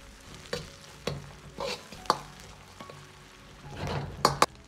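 Oyster mushrooms with chili stir-fried in a wok: soft sizzling under repeated spatula scrapes and stirring strokes, with a few sharper clanks toward the end.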